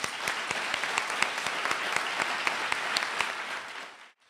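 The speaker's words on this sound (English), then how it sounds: "I'd like you all to join me in applauding Solicitor Hillary Tompkins." An audience applauds at a Stanford multicultural alumni hall of fame awards ceremony, with dense, steady clapping that fills the room at an even level before it stops abruptly.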